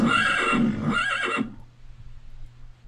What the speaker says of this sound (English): Death by horse noise.